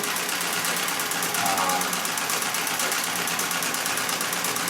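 A Singer 66 red eye treadle sewing machine stitches quilting in 100% cotton 40 weight thread, giving a steady, continuous rapid mechanical whir and clatter close by, running without pause.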